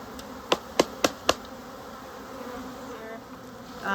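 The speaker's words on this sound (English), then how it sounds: "there's still a bunch of bees hanging out inside, so you just kind of have to bang it and roll them out again and again" Four sharp knocks ring out in quick succession as a bee package is banged to shake honeybees loose, over a steady hum of buzzing insects.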